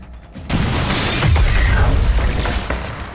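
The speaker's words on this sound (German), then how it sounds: "Wieder irgendwas explodiert, von dem wir keine Ahnung haben." A loud explosion in the tactical video game XCOM: Chimera Squad, a sudden blast bursting in after a brief quiet, then a roaring, rumbling fireball with shattering debris that slowly fades.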